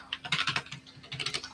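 Rapid keystrokes clatter on a computer keyboard, a quick close-up burst of clicky taps with a brief pause midway, no voices.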